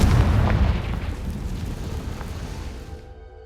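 The Confringo explosive spell goes off in the video game Hogwarts Legacy, a loud, close booming blast with a rumbling roar that slowly fades over a few seconds.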